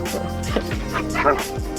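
A dog aboard a sailboat near the Paul Ricard islands lets out several close, sharp barks and yips in quick succession, mixed with whining, while a person talks.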